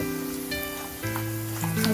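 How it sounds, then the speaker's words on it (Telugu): Onions frying in a pan with turmeric added, a steady close sizzle with a few faint stirring sounds and no talk. "ఈ విధంగా ఉల్లిపాయ కొంచెం ఫ్రై అయిన తర్వాత"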